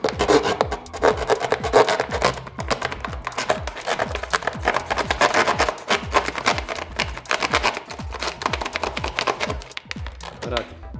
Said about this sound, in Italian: Andiamo magari a tagliare una bottiglia di plastica.